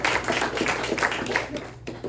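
Scattered applause from a seated audience at a press luncheon, soft and somewhat distant, with voices murmuring beneath the brief burst of clapping.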